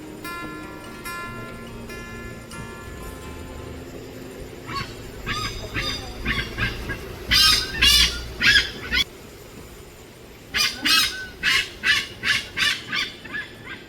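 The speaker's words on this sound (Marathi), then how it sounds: "काकण पक्षाचा आवाज येत होता" Loud, harsh honking calls of a hornbill ring out in a village forest setting near jackfruit trees, coming in bursts midway and then as a steady run of about seven evenly spaced calls toward the end.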